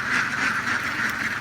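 A flock of about a thousand laying ducks in a pen quacks in a dense, continuous chorus as they are let out into the water in the morning, loud and close with no talk over it.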